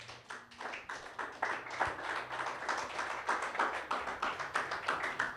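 Congregation clapping during a church sermon, a steady rhythmic patter of hands at moderate volume lasting several seconds with no talking over it.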